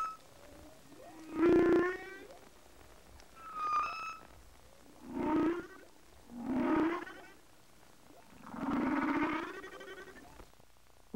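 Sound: humpback whale vocalization

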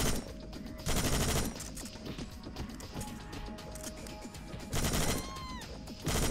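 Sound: gunfire in zombie apocalypse survival horror video game

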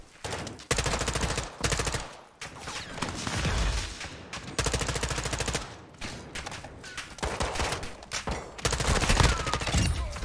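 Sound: sniper rifle gunfire in Call of Duty DMZ video game

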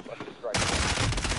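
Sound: gunfire in a video game

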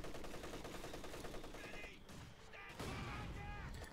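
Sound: 50 caliber machine gun fire in Company of Heroes 2 video game

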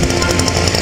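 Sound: Carver T 300 motor cultivator engine running after starting

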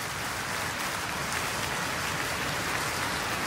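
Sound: encore applause at a concert in Iceland

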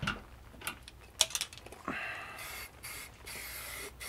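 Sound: spray painting in satin black

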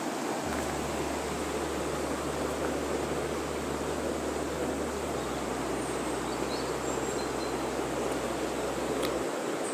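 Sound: river flowing in Garganta de Cuartos gorge

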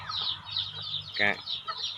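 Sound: chickens clucking

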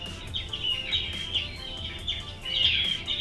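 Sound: birds calling, video game ambience loop

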